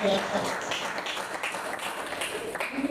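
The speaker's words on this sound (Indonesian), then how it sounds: "tepuk tangan semuanya" A class of students applauds during a teaching-practice lesson, with a burst of fairly close clapping in uneven rhythm and voices briefly heard at the start and end.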